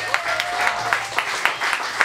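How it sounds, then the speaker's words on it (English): A room of guests at a partner evening auction claps, a moderate patter of applause with a few louder hand claps standing out, heard briefly and somewhat softly. "round of applause for this first bit of the evening"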